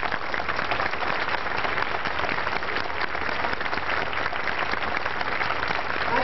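A crowd at a 1999 Law Day celebration applauds the judges with sustained, even clapping that holds at a constant level throughout, sounding slightly muffled.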